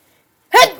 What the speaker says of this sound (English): just sneezed